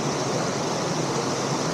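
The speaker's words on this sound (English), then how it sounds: "This is Dunfield Creek a little further up." Dunfield Creek on the Appalachian Trail rushes steadily, a close, loud, even wash of flowing water with no voices.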